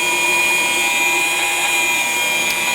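Rupes LHR19E rotary polisher spinning at roughly 450 to 600 RPM on a car panel, a steady close whine that holds an even pitch throughout with no talking.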